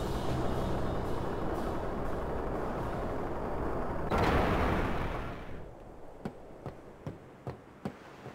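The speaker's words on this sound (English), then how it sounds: "It's a lot of cannons." Cannons in the Final Fantasy X game let loose a loud, rumbling barrage. Then come a handful of separate booming shots, evenly spaced, that stand out against quieter background.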